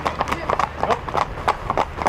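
Horses walking on a horses-only road at Appleby Fair, giving a steady rhythm of hoof clip-clops on tarmac, close and clear, with a voice speaking over them.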